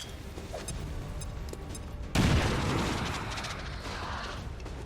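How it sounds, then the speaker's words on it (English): A grenade blast in XCOM 2: War of the Chosen: quiet ambient game sound, then a sudden loud boom about halfway through that rolls and slowly decays into lingering rumble. "Throw a grenade!"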